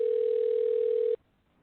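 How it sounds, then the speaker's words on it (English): A phone line sounds a single steady electronic tone on a call, loud and close, holding for about a second before cutting off abruptly into near silence. "Right, I hear it ringing."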